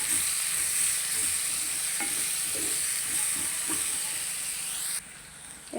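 Onions sizzling in a pan for chicken bhuna, a steady hissing fry with soft rhythmic scrapes of stirring, quieting suddenly near the end.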